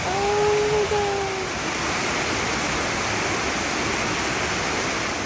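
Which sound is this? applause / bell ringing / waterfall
waterfall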